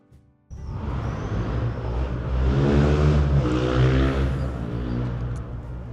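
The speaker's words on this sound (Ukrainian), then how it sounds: "Коли вже заборонять усі мопеди без глушників" A loud moped with no muffler kicks in with a sudden rasping engine roar. It swells as it passes close by, then eases slightly while still blaring.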